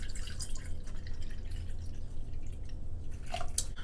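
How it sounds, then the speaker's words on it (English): Orange juice pours for a margarita in a close, soft, continuous liquid trickle and drip, steady throughout with a few brighter splashes near the end and no speech. "So I'm going to pour some orange juice,"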